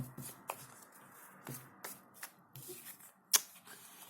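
Tarot cards riffled and shuffled by hand in a quiet room, a few soft brushing bursts and one sharp snap near the end.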